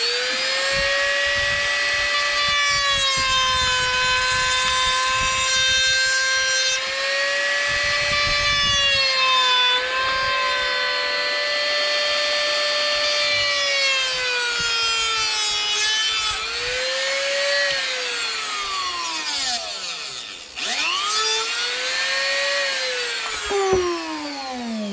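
A power tool trims a plastic part during a cruise control install on a Subaru Legacy, giving a loud, continuous high whine close by that rises and falls in pitch as it cuts, dipping briefly near the end.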